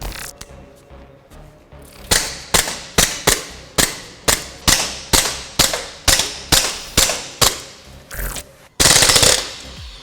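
A CO2 air pistol fires a rapid, evenly spaced string of about a dozen sharp, close shots, ending in a longer loud hiss-like burst.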